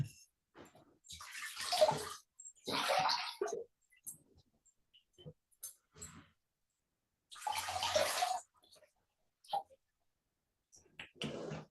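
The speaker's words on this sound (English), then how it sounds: "Let's rinse our feet and dry them off" Water splashes and sloshes in a foot-soak bucket as feet are rinsed, coming in several separate bursts with quiet pauses between them, close and fairly soft.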